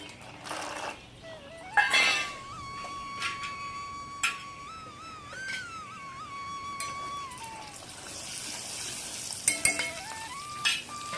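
Chana dal and peanuts frying in hot oil for a tempering, a soft steady sizzle with stirring clinks of a utensil against the pan and a few sharper knocks, close by with no talk.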